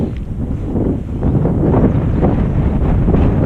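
Strong, gusty wind buffets the microphone at a trout fishery during a summer fly fishing session, a steady loud roar with surging gusts and no voices.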